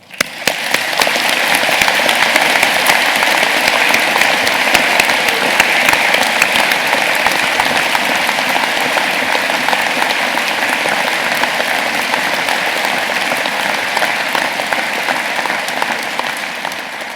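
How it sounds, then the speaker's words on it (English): An audience at a university graduation ceremony claps warmly and steadily, a dense, loud, sustained applause filling the hall for well over fifteen seconds with no voices over it. "you and they all deserve a warm round of applause"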